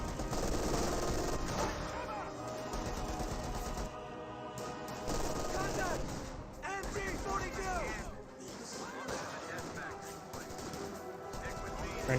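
Company of Heroes 2 battle with dense, continuous machine-gun bursts and rifle fire, loud and steady, mixed with crashes and distant battlefield noise, while a voice talks over it.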